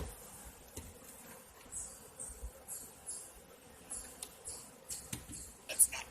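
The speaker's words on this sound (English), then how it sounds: "I expect to see a lot of bees and a lot of food in this one." Bees buzz faintly around an open hive, a low droning hum with occasional sharper rustles and clicks, no voices.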